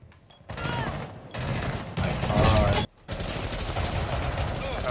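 Automatic weapon fire in Rainbow Six Siege rattles out in several short, fairly quiet bursts separated by brief pauses.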